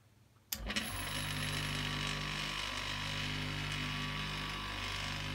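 A Sealey 150mm 370W bench buffer and polisher switches on with a sudden thump, then holds a steady, loud motor hum and whirring drone that continues unbroken to the end.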